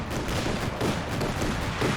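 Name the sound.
flak half-track firing in Company of Heroes 2 video game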